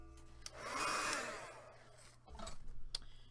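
A handheld dryer blows hot air over spray ink on an art journal page, a whooshing roar that swells for about two seconds, fades, then gives way to a softer rustle.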